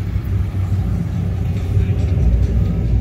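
A Ford Boss 302 muscle car idles past at a Friday night hot rod cruise with a deep, steady, close engine rumble that holds evenly throughout.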